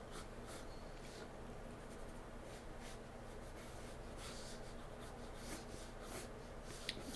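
Pencil scratching across paper in a gesture drawing of anatomy, a steady soft rasp with long continuous strokes, close and quiet, without talk.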